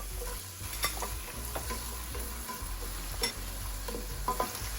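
Onions sizzle steadily in a pan for a biryani sauce while a utensil stirs and scrapes them in irregular clicks and knocks, close and fairly quiet, with no talking.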